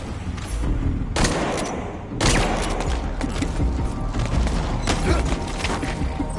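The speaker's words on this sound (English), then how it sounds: "Слышу выстрелы!" Rapid gunfire bursts from Metal Gear Solid V: The Phantom Pain, a dense fusillade of automatic shots that starts and stops in loud, near volleys with some background game noise.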